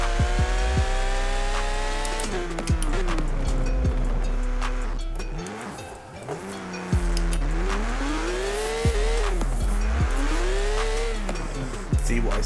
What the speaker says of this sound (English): Some nice pops as well on the downshifts.